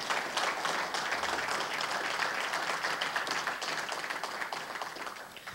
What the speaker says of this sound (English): So let's give a round of applause for the actions of the officers of that night,